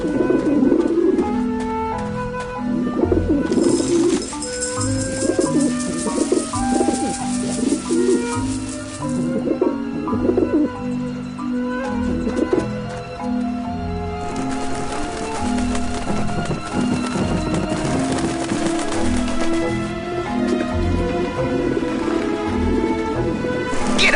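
Birds coo repeatedly in the Grim Fandango video game, their low throaty calls recurring close and loud over layered tonal game sound, with no talking.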